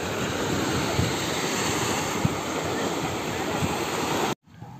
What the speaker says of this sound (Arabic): النهار البحر هايج شويه